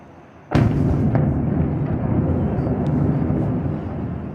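A sudden deep boom of explosions in Caracas, Venezuela bursts in, then a long rumbling roar that slowly fades, with a few faint pops in the distance.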